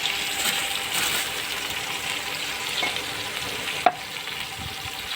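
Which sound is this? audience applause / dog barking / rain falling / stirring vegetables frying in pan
stirring vegetables frying in pan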